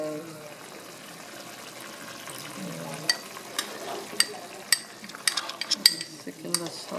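A spoon stirs cornstarch slurry into simmering mapo tofu sauce in a pan, with soft bubbling and sizzling under a quiet voice and a series of sharp clinks of utensil on pan toward the end.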